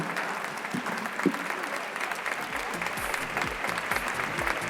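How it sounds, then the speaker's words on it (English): An audience at a mobile security panel discussion applauds steadily, a dense wash of many hands clapping throughout, moderately loud and continuous. "A bigger round of applause for them, please."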